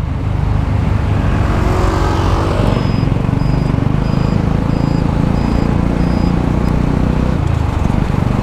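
Dense afternoon road traffic in Batangas, on the way from Malvar to Santo Tomas: a steady, loud wash of car and truck engines and tyre rumble, with vehicles passing close by and faint beeps in the background.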